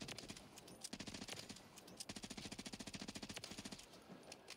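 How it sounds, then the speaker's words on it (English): Bruen rifle fire in a video game: rapid automatic bursts of sharp gunshots in quick rhythmic strings, moderately loud, with short gaps between volleys and no talking. "So those shots right there, those are the first shots that I've ever fired with this."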